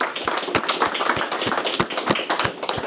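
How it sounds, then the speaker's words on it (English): A small class applauds itself, with a modest group's clapping close by and distinct individual hand claps standing out in an uneven, sparse rhythm. "give yourselves a round of applause"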